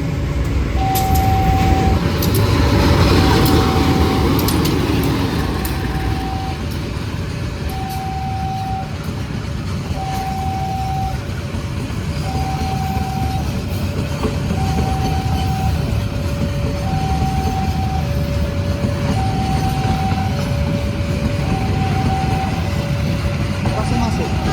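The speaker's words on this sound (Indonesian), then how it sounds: "Kereta api Blambangan persiapan masuk stasiun Surabaya Gubeng." The Blambangan passenger train rumbles steadily into Surabaya Gubeng station with a loud continuous roar, while a repeating two-tone chime sounds over and over in the background.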